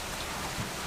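Steady rain falls on a lanai, a dense, even hiss of drops with no pauses or voices.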